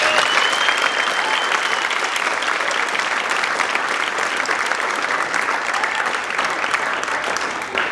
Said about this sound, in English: So we can give them one more round of applause.